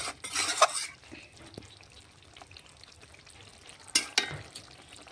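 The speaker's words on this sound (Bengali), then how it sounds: "আবারও নাড়াচাড়া করে জলটা কড়াতেই যেটুকু জল আছে ওটা শুকিয়ে নেব এইভাবে" Chicken is stirred and fried dry in a pan: two loud bursts of spatula scraping and sizzling frame a quieter stretch of low frying, close up with no talking.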